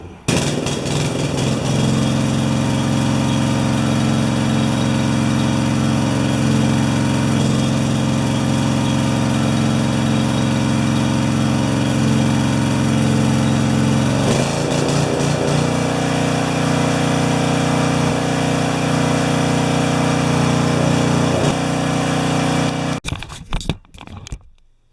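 A 12 HP Swisher bush cutter engine running badly, a loud, steady close-up drone that shifts pitch about halfway through, runs on unevenly, then cuts off abruptly near the end.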